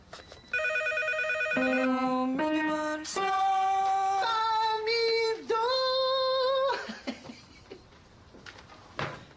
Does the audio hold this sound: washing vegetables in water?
no